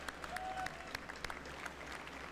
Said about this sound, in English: now we got like a total of 5 claps and woos